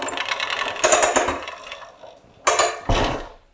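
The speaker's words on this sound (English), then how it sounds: "When you hear the click, you can let go and it'll stop like that." An air hose reel is pulled and retracted, giving bursts of rapid mechanical ratchet clicking and whirring, close and fairly loud, separated by short pauses with no speech.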